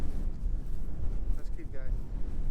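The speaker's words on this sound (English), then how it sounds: "it's bloody windy" Strong wind buffets across an open hilltop on a countryside hike, a loud rushing roar battering the microphone in gusts, with a faint voice briefly audible under it.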